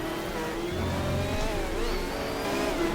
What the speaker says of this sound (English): This Nissan, when the turbo kicks in, is a pain in the neck.